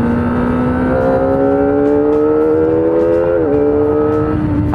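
A Kawasaki ZX25R pulls hard at high RPM, its shrill engine note climbing steadily, then dipping sharply at a quick-shifter change before rising again, loud and close with wind rush.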